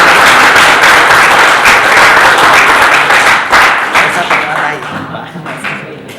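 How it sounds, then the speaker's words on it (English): An audience at a dental patient demonstration claps in a loud, dense round of applause that holds steady and then thins out toward the end. "Can we give our patient a round of applause"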